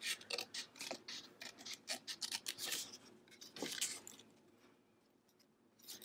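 Scissors trimming a fabric pocket cover for a travel journal, making a close series of quick snipping and rustling cuts that stop partway through, leaving a quieter stretch before a final soft rustle.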